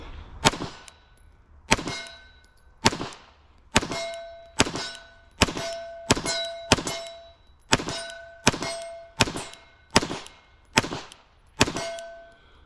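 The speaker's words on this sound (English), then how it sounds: "we're going to do all the remaining rounds I have, which I think is 18, into this 25-yard target" A Beretta 92 Elite LTT pistol fires a steady string of about a dozen evenly paced shots at a 25-yard target. Each crack is sharp and ringing, with a metallic clang trailing after it.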